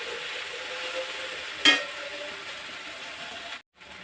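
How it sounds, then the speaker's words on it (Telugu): Okra frying in a spoonful of oil in a pan as it is stirred, a steady close sizzle with a brief scrape of the spoon partway through. "ఇలాగ అప్పుడప్పుడు కలుపుతూ ఫ్రై చేసుకోవాలన్నమాట"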